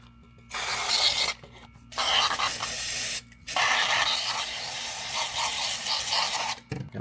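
Brake cleaner sprayed from an aerosol can into a container of O-rings: several loud, hissing bursts of spray separated by short pauses, close up, with no talking.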